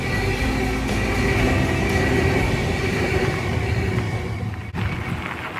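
A train rolls past on the rails with a steady, loud rumble and a rattle of wagons that fades slightly near the end, with no voices.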